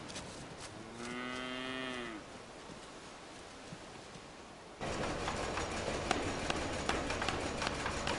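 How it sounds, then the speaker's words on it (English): A single cow gives one long, clear moo near the start, heard up close over a steady outdoor background that turns louder and noisier partway through, with no talking. "She's a cow."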